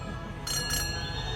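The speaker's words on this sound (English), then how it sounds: "it doesn't have a horn. It has a little bell" A small bell on an antique car at a concours d'elegance, used in place of a horn, chimes twice in a quick, bright ring over steady outdoor background noise.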